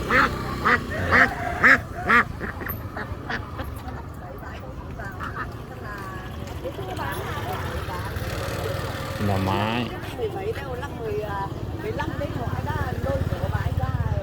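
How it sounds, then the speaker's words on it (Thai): Ducks quack in quick bursts near the start at a roadside morning market in Dien Bien Phu, Vietnam, then people talk over a busy street with an idling engine rumbling underneath. "อันนี้เป็ด ได้ยินเสียงแล้วเป็ด"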